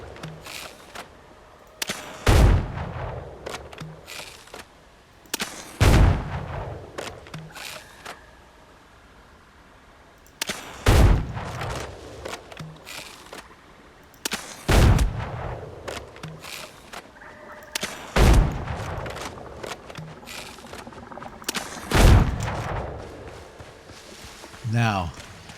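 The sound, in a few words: gunfire in the video game Windrose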